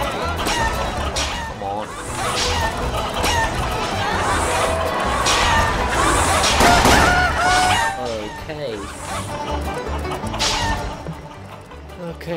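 Roosters in a rooster race minigame in Yakuza cluck and crow in bursts over a busy crowd murmur that swells in the middle and then fades, while someone speaks briefly.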